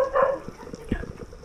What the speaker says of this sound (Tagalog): daming aso dito sa spot na to.